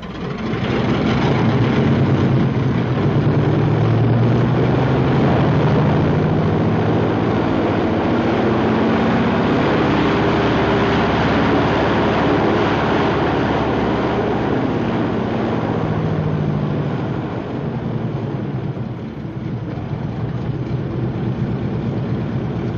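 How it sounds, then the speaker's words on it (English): A P-47 Thunderbolt fighter's radial piston engine is run up in the field: a loud, sustained low roar that swells in pitch and power, holds steady for a long stretch, then eases slightly near the end, with no voices. "the crew chief runs up the engine"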